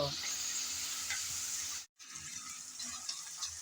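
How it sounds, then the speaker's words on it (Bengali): Onion paste frying in a pan and being stirred until lightly browned for yoghurt chicken, a soft steady sizzle with a short silent gap midway and faint scraping. "পেঁয়াজ বাটা দিয়ে নেড়ে চেড়ে একটু বাদামি করে ভেজে নেব"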